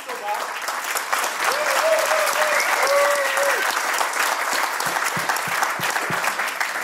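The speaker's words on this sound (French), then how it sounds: "On applaudit Thomas" A small audience claps for Thomas after an interview, a loud steady burst that tapers into scattered claps while a voice speaks and tones ring out briefly underneath.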